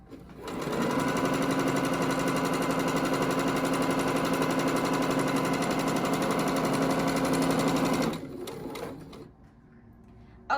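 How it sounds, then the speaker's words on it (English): An automatic sewing machine runs continuously while top stitching around the bottom edge of a fabric apron, a loud, even, rapid mechanical chatter for about eight seconds that then slows and stops, leaving near quiet. "now I'm gonna top stitch around the bottom of my apron to make it nice and neat"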